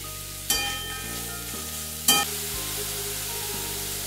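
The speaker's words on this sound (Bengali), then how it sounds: "দিয়ে কপিগুলো একটু ভেজে নিচ্ছি।" Boiled cauliflower pieces fry in a pan with ginger and green chili paste, turmeric and salt for a samosa filling; a steady close sizzle is broken by two sharp clatters of stirring.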